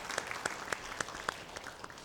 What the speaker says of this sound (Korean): 우리 찬양으로 섬겨주신 은평찬양단 격려의 박수 하나님 앞에 올려드리겠습니다